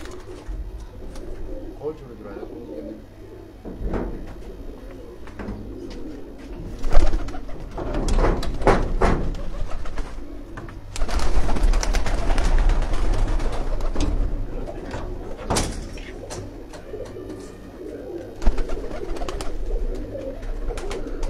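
Pigeons coo repeatedly at a rooftop loft where racing breeders are kept, soft rhythmic calls recurring through the clip alongside background noise and occasional louder bursts.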